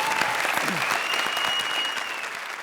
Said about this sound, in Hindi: हमारी गेस्ट जोड़ी के साथ जुड़ी हुई सुपरस्टार प्रिया के लिए जोरदार तालियां।